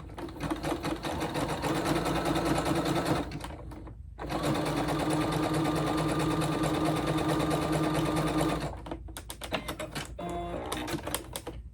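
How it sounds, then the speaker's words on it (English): A domestic sewing machine stitches a fabric tissue pouch in long rapid bursts, stopping briefly near the start and again toward the end before a few short, sputtering runs; the whirring needle drive is loud and close. "just using your sewing machine"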